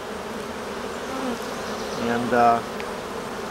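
Honeybees buzz in a steady close drone near a handler during a hive presentation, the hum swelling briefly louder toward the end, with a spoken word heard once.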